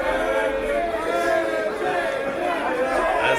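Dense crowd chatter and jeering fill a wrestling event at FMLutte, Festival Vieux Saint-Jean, steady and loud throughout as an arena audience taunts wrestler Shawn Adams.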